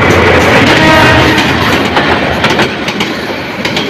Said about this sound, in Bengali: সামনের দিক থেকে আরো একটি ট্রেন আসছে ব্রাহ্মণবাড়িয়া অভিমুখী তিতাস কমিউটার।